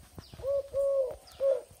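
A caged spotted dove gives three soft cooing notes, close and fairly quiet, with short pauses between them and faint background noise.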